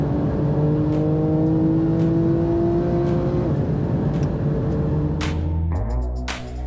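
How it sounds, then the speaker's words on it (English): A race car engine roars steadily at high revs at a motoring festival, its pitch sweeping and shifting as it laps at speed, with brief clicks and a gear change near the end. "We are lapping at an incredible speed with an incredible driver in an incredible car on incredible tires."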